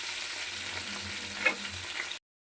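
Paste of ginger, garlic and onion frying in a pan, a steady close sizzle with faint stirring scrapes, no voices, cutting off abruptly near the end.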